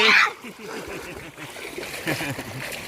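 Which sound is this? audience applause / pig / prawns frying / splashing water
splashing water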